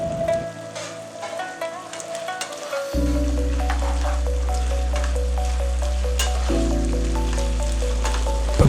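Gobi 65, deep-fried cauliflower, tossed with three sauces in a hot pan on high flame, giving a loud, steady sizzle and crackle that grows heavier once the cauliflower goes in, with occasional scraping stirs and no talking.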